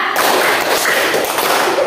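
Dense group clapping from a classroom ice-breaking clap game, a loud continuous burst of many hands clapping together up close.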